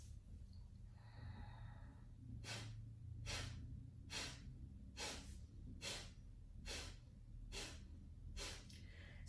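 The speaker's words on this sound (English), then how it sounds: "I'm just creating a strong exhalation out of my nose" Sharp forceful exhalations through the nose during yoga breathing, about nine evenly spaced rhythmic puffs after a quieter stretch, close and clear over a low background hum.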